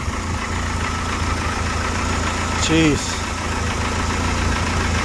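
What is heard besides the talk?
turbo car engine idling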